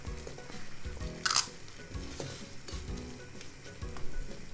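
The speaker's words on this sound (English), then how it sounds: "So as the last thing, we're gonna boil the eggs." Eggs simmering in a pot of boiling water for Japanese oden stew, with a continuous bubbling sizzle and occasional clinks or stirring knocks of a spoon, close and moderately loud with no talk.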